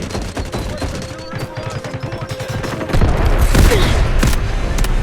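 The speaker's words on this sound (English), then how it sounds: "Artillery sounds barrage like something's incoming" An artillery barrage in the game Delta Force Mobile booms and crackles in a dense run of rapid explosive bursts, growing heavier and louder partway through.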